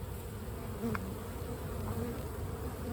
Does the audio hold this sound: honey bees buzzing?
yes